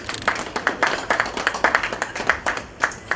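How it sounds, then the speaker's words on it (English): Conference audience at the ZNCC event at ZITF 2025 claps in a sparse, rhythmic round, each clap sharp and distinct, moderately close, with no talk over it. "Please give our CEO another round of applause."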